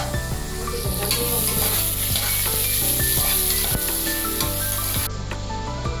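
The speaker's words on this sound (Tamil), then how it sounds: "வெங்காயம் வதக்கிக்கலாம்." Onions frying in oil with whole spices for a vegetable biryani, a loud, steady sizzle with regular scraping stirs of a spoon against the pan, close by, the hiss cutting off just before the end; nobody speaks.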